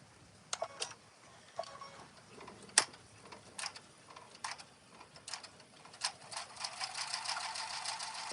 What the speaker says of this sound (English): This is the last bit of heavy stitching I'm gonna do here.